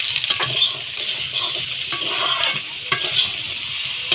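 Eggplant frying in hot oil in a pan while a spatula stirs it: a steady close sizzle with scraping strokes and occasional sharp clinks of metal on the pan.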